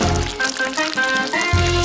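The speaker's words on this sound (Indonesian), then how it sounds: "Sekarang mari kita siram semuanya." Liquid colour poured over a handmade dollhouse, giving a steady splashing, sizzling wash under soft background music and swelling louder near the end.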